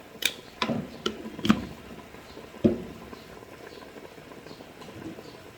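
Water comes to a boil in a cooking pot with scattered bubbling pops and a few sharper knocks near the start. The sound is faint and close, and no one speaks.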